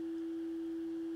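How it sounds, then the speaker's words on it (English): A simple synthesizer oscillator produces a pure sine wave tone, one steady, unwavering pitch held alone for its full length. "Play the next scene to hear an example of a simple sine wave."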